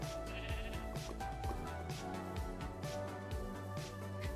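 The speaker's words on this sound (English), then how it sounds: "I think it's just a sheep." Sheep in Minecraft bleat repeatedly over a busy background of rhythmic game music, with several quacking bleats spread across the stretch at a low level.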